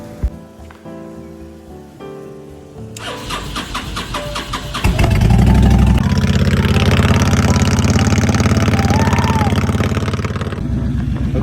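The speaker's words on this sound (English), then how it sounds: "Okay, so the bike is finally running happy and healthy." A nearly 20-year-old motorcycle engine after servicing, heard close and loud as it catches and then holds a steady, rough idle that cuts off near the end.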